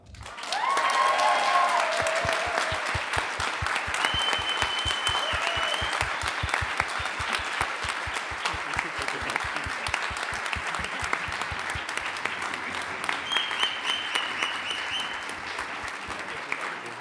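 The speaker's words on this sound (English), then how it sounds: "Please give a thunderous applause to Helga" A conference audience breaks into sustained, loud applause that fills the room for the whole stretch, fading only slightly at the end, with a few faint tones and voices mixed in.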